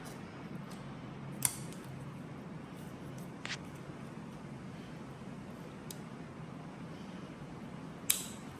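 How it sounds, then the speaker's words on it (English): Scissors snipping drinking straws, heard as three or four sharp, faint clicks spaced apart over a low background hum. "Take 2 straws. And we're gonna cut these."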